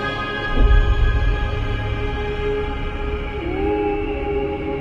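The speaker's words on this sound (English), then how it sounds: "They are literally the sounds of space ringing." Gravitational waves from merging black holes rendered as sound: a sustained, eerie tonal drone with a low rumble and a slowly bending, gliding pitch near the end, steady and unbroken.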